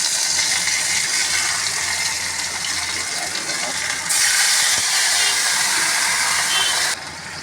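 Bengali spice paste of ground onion, garlic, ginger, cumin, dried chilli and garam masala fries in a pan for a taro curry, giving off a loud, continuous sizzling hiss that swells midway and then drops slightly near the end.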